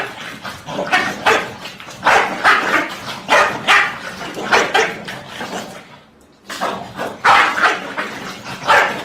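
Dogs barking in repeated loud bursts indoors, with rapid yapping barks and brief pauses, one short silence before the barking resumes.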